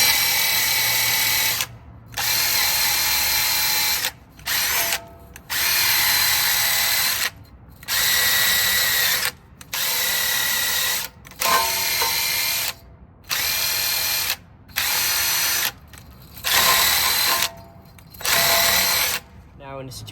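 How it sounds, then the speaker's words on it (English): Power drill fitted with a wire wheel scouring dusty brake parts from a Honda Accord, whirring in about ten loud bursts of a second or two each, separated by short pauses. "clean this with a drill and a wire wheel"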